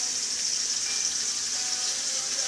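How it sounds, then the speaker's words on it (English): Pork chops sear in a hot frying pan, a close, steady, bright sizzle that holds evenly without pause. "I just want them to get just a quick little sear on them."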